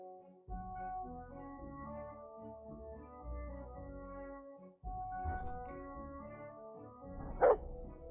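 A dog barks in the medieval video game Kingdom Come: Deliverance II, a few short barks set against steady, tonal in-game music, with one sharper bark near the end.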